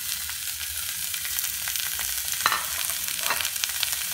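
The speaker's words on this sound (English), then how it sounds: "So I'm using this sopuria to cook my minced meat" Minced ground beef frying dry in a sopuria with no oil added, a steady close sizzle and crackle throughout with a couple of sharper spatters partway through.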